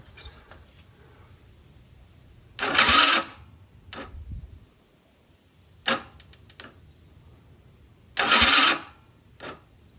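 A small scooter engine being kickstarted, with two short bursts of it turning over and churning roughly, separated by quieter clicks and mechanical knocks.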